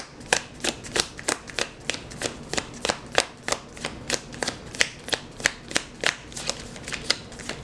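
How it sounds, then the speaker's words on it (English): Rapid riffle shuffles of a card deck, a quick run of crisp flutters repeating steadily, close and clear with no talking. "I'm going to shuffle a couple more times."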